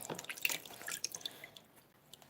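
Hot water splashing and dripping while a wax-resist pysanka egg is washed at a sink, quiet irregular drips and trickles close by, with no talk.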